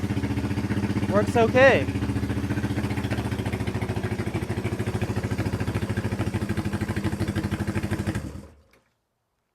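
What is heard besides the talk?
vintage Honda motorcycle engine kick-started and running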